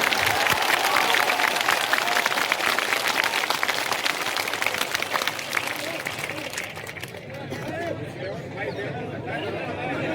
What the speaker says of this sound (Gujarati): તાળીઓ એવી વગાડો છે ગાંધીનગર સુધી સંભળાય કે આ રેલો અહીંયા છે